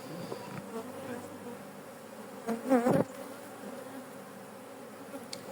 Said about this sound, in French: il commence à y avoir beaucoup d'abeilles qui s'envolent